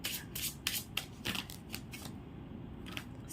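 Tarot cards are shuffled in a quick series of crisp riffling slaps and flicks close by, with a brief pause near the end, and no talking.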